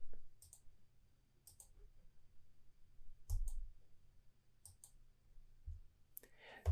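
Computer mouse clicks during a software tutorial, sharp isolated clicks spaced a second or so apart, quiet and close, over a faint low background hum.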